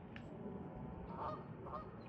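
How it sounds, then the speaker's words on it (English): A few Canada goose honks ring out, moderately close, over a steady murmur of outdoor background noise. "And the noisy goose."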